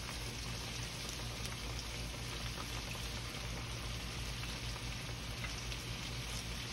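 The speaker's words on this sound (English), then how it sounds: "I just put them in the fryer like this." Coconut-battered shrimp, about a dozen and a half, deep-frying in hot oil without a basket, giving a steady, dense crackling sizzle that holds evenly throughout with no talking.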